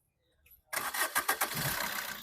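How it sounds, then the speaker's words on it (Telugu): A 2018 Maruti Suzuki Vitara Brezza VDI diesel engine starts on a single crank after a faint rustle, catching with a few uneven chugs before settling into a steady, gravelly idle. "సింగిల్ సెల్ఫ్లో బండి స్టార్ట్ అవుతుంది సార్"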